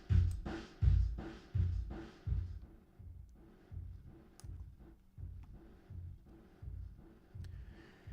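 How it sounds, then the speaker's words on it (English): A tape machine explosion effect from an Airwindows plugin, heard as a run of thumping, low bursts that start fairly strong and then repeat more softly in an uneven pulsing rhythm, quiet overall with no talking. "your tape machine explode sound is like this."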